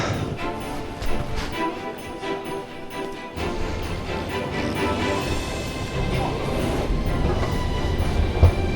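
A train in Helsinki rumbling steadily with rattling carriages and metallic clatter, growing louder partway through as the noise of rail travel surrounds the listener.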